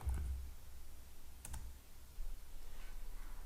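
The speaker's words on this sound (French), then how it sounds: "dans votre barre de recherche, vous allez taper Oracle" Keys typed quietly on a computer keyboard into a browser search bar, with a brief cluster of clicks near the middle over a faint, steady background hum.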